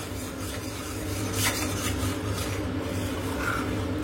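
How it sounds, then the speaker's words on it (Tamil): Flour dough being stirred continuously in a pan on the stove, a steady close scraping and rubbing that keeps going without a break, with no talk over it. "அப்புறம் கைவிடாம கிளறிட்டே இருக்கணும் இந்த டைம்ல தான்."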